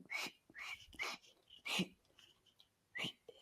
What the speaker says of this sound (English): I'm trying to whistle